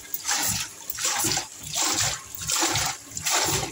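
Water spills and splashes out of a newly bored 2-inch well as it is drawn up, in surging bursts roughly every half second to a second, steady and moderately loud.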